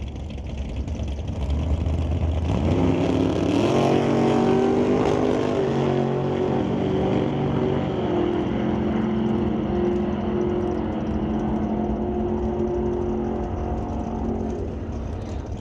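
A Chevrolet S10 drag truck launches down the strip at Mission Raceway during an outlaw drag racing shootout, its engine loud and close, revving hard and climbing through the gears before holding a steady roar.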